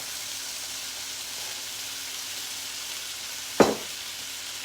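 Meat browning in a pan for a lazy lasagna gives a steady, close frying sizzle throughout, with one brief sharp clack of a utensil near the end.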